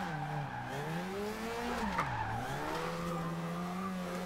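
A Mazda RX-7 drifting in Forza Horizon 2, its engine note swooping up and down under continuous tire squeal through the slide.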